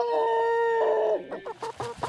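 A rooster on a one-acre farm raising 54 chickens crows loudly and close by in one drawn-out call, then breaks into quick, choppy clucks at the end.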